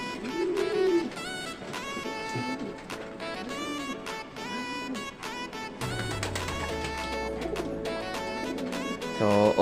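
Pigeons cooing inside a training box, with repeated low throaty coos layered over a busy, continuous background of other bird calls and clutter, fairly close and steady throughout.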